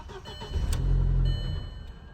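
A 2004 VW Passat engine cranks briefly and catches, a short loud rumble that rises and then fades as it dies away, heard close with no talk.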